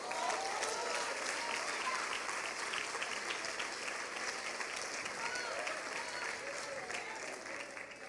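A church congregation applauds continuously in a dense, even wash of clapping that fills the room at moderate distance, with no speech over it.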